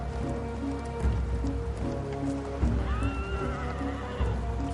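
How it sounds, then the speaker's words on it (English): Horses neigh and whinny over steady rain, with a rising whinny near the middle and hoof clip-clop against a busy outdoor backdrop. "Horses gave Europeans another massive advantage."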